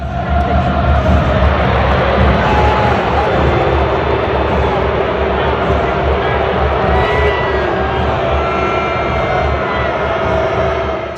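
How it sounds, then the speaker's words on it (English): A Super Bowl stadium crowd booing Taylor Swift, a dense sustained roar of many voices filling the whole stretch, loud and steady with a faint voice underneath. "when they landed on Taylor Swift, the crowd booed her"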